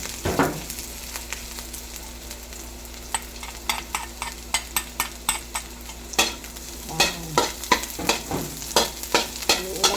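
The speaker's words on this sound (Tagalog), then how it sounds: "Tapos mag-add po tayo ng garlic or bawang." Garlic sizzles in a hot pan as it fries, a steady close crackle joined by a run of rhythmic scraping stirs that grow more frequent toward the end.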